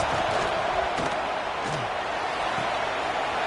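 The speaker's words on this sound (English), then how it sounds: "Listen to this crowd just shaking the girders of this place, trying to help their defense." A stadium crowd roars at a football game as the defense takes the field, a thick continuous wall of noise at steady volume with no clear individual voices.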